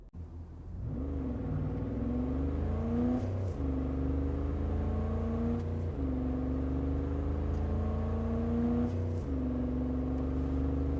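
A car engine in Cyberpunk 2077 accelerates steadily, its tone climbing through several gear shifts with brief dips between them, loud and close throughout.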